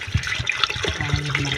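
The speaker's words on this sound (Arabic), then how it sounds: "نعاود ندير الماء، درت غير الماء بارد، ما درتش الماء حامض" Cold water being poured into a pot for Algerian couscous, giving a close, continuous bubbling gurgle of liquid.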